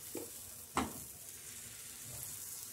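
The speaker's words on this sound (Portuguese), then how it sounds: "Agora nós vamos pro fogo fritar essa massa." Pancake batter frying in a slightly burnt frying pan greased with oil, a low steady sizzle with a couple of brief utensil clinks and scrapes, quiet and close with no voices.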